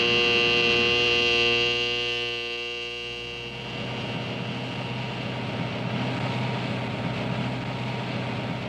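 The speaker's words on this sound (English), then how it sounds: "A prop engine Cessna acts as scout for the jets." Cessna prop-engine scout plane flying over a Vietnam War combat area, a steady droning propeller engine with a strong harmonic hum that fades slightly as it moves away, alone without talk.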